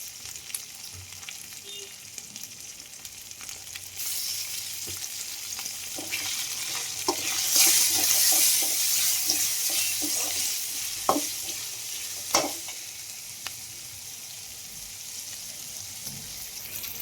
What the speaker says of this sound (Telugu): టమోటాలు అయితే వేగిపోయినాయి బాగా.